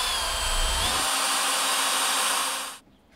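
A power drill whirs steadily for a few seconds at close range, driving a galvanized screw into a pre-drilled hole, then cuts off abruptly into near silence.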